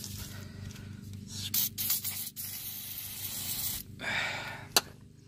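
Penetrant sprays in steady hissing bursts onto rusted bolts at the front wheel hub of a 2002–2005 Ford Explorer, close and fairly quiet, with a couple of short pauses and a light clack near the end.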